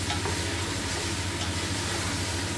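Chicken wings adobo sizzling steadily in a pan while being stirred, a dense continuous frying hiss with scraping of the utensil, close and loud with no talking.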